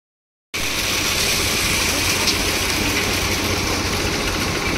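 A loaded tractor's engine runs steadily and loud after a short silent start, with a dense, continuous rumble and no speech.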